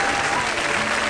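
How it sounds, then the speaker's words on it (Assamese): Audience at an award ceremony clapping loudly in a dense, continuous burst of applause. "হাত চাপৰি লাগে।"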